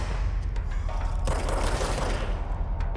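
Rapid pistol gunfire in the video game Control, a dense, loud stretch of close shots with a heavier burst partway through, no talk over it.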